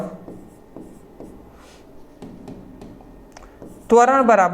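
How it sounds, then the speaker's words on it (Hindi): Chalk or marker scratches out a physics formula on a board in short strokes and taps under a man lecturing in Hindi, followed by a louder burst of speech at the end. "त्वरण का एक फॉर्मूला होता है, मैं यहां पे लिख दे रहा हूं"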